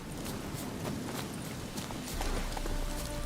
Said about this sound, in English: looks like we're riding there manually